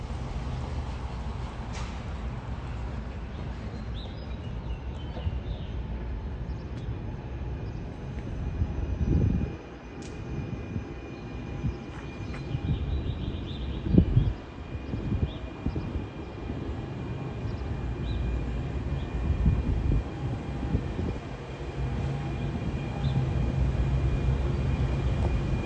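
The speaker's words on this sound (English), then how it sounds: "We're now gonna film a train arriving" A commuter train rolls into a small station on a short rail line, a steady low rumble with clunks and rattles rising and falling over about 25 seconds, heard from the platform at moderate loudness without talk.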